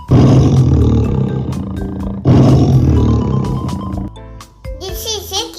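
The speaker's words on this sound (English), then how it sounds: "This is a tiger." A tiger in a children's animation of wild animal sounds lets out two long, loud, growling roars back to back, ending with a short tinkling jingle.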